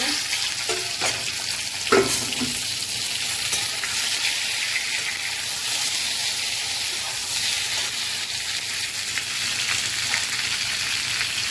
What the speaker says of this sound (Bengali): তেলটা হয়ে এসছে পটল আলু ভাজাটা দিয়ে দেব